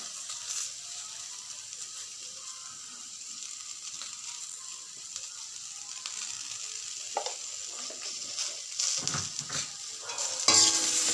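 Flat beans and eggplant are stirred with salt and turmeric in a hot pan: continuous gentle frying hiss, utensil scrapes growing busier toward the end, no voices.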